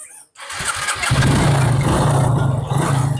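A motorcycle engine self-starts at a low-price bike sale in Bangladesh: a short burst of starter cranking, then the engine catches and settles into a loud, steady idle close by.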